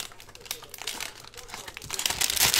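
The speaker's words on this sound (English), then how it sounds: "we'll rip open the packs" Trading card packs from 2019-20 Panini Mosaic Basketball boxes are torn open with close, crinkly foil rips and crackles, growing louder and busier toward the end.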